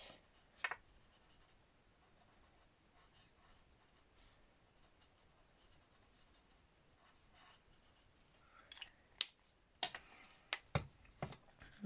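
Alcohol markers scratch and rub softly over paper in an art journal page, faint, close strokes building to a few sharper, louder swipes near the end, with no voices.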